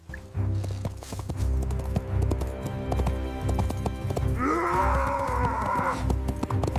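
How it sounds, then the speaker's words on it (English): A horse gallops frantically in a dramatized chase, rapid loud hoofbeats pounding throughout, joined midway by a rising, wavering animal cry over the rhythm. "he urges Gunpowder into a frantic, chaotic gallop"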